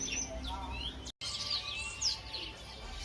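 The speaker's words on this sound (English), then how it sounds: "The air is filled with bird song from birds of all shapes and sizes." Caged birds of many kinds sing and chirp together at a Hong Kong bird market, a dense, busy chorus of overlapping whistles and tweets over low crowd ambience, with a brief dropout partway through.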